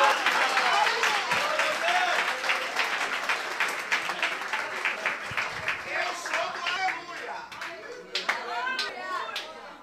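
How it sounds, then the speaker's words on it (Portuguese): A church congregation claps steadily and loudly during a worship service, the applause thinning slightly then swelling again, with voices calling out over it. "Você pode aplaudir melhor,"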